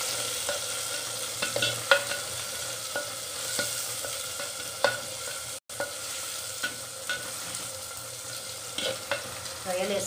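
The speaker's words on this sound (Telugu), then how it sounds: "రొయ్యలు వేసుకొని కొంచెం బాగా కలుపుకున్నామండి" Raw prawns stirred in a hot pot for a biryani, giving a steady close sizzle with soft spoon scrapes and occasional knocks against the pot, no voices.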